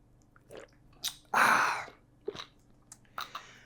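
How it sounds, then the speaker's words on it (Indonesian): A coffee drinker takes a loud slurping sip from a cup, followed by a few smaller mouth sounds and soft swallowing noises, up close with no talking. "Saya seruput dulu kopinya."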